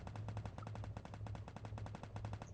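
Rapid automatic gunfire in the game Free Fire rattles in a steady, fast burst of evenly spaced shots, fairly faint and continuous, with no talking.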